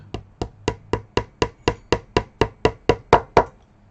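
Hammer taps string ferrules into a Telecaster guitar body, fourteen sharp, evenly spaced close knocks with no one talking.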